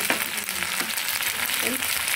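Red chili powder, coriander powder and turmeric fry in hot oil for a small-fish curry. A constant close sizzle runs throughout, with occasional scrapes from stirring.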